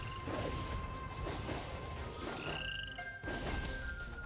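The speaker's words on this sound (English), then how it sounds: "Alright, Poison Toad killed." A poison toad in the video game Tale of Immortal croaks amid crashing combat effects, its jump landing with a thud, all loud and dense over steady in-game music.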